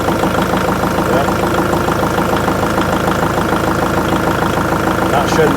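A Kubota tractor engine idles steadily and loud, with a rough, even mechanical rhythm running unbroken from start to finish and faint voices in the background.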